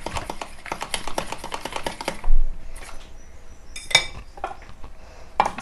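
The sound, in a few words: scooping egg batter out of a bowl with utensils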